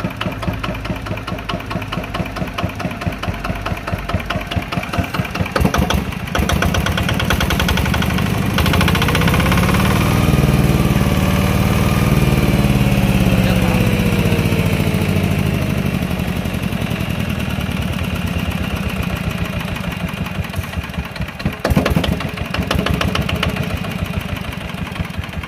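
Yanmar diesel engine, an HS 80 or NS40–NS75 model, running steadily with a loud, even mechanical chugging and knocking throughout, a few brief clunks partway through.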